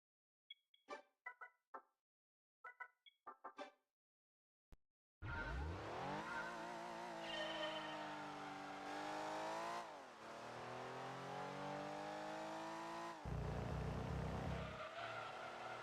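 A race car in Gran Turismo 2 starts after a few short game beeps and tones. Its engine then roars up through the gears with tire squeal, staying loud and continuous with pitch sweeps for about ten seconds.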